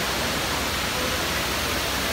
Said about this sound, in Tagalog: So, itong na to guys, mataas tong waterfall na to.